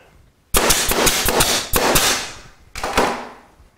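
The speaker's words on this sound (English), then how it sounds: "line it up carefully, and nail it together" Hammer blows drive nails into a wooden table saw sled, three sharp, loud impacts with ringing tails, spaced about a second apart, with no talk.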